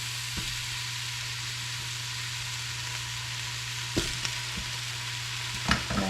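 Sausage and jalapenos sizzle steadily in a pot for spicy cabbage soup, a constant bright frying hiss under an electrical hum, with a few sharp clinks of a utensil against the pot near the end.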